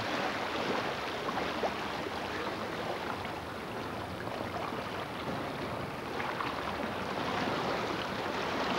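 Ocean surf during a surfing lesson, a continuous broadband wash of breaking water and rushing foam that stays loud and steady throughout.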